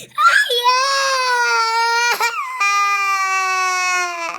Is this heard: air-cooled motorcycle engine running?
no